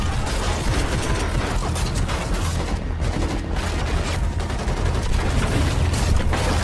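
Rapid, continuous bursts of gunfire from a film shootout crackle loudly throughout, dense and sustained like a heavy exchange of shots.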